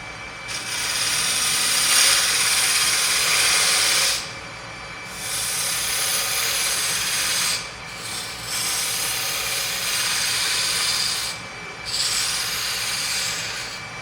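A scraping tool cuts a wooden spindle on a lathe, working from the right toward the center: long bursts of rough, hissing shavings broken by short pauses, with a steady motor hum underneath.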